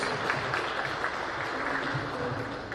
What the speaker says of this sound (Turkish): tebrik ediyoruz ve alkışlarla uğurluyoruz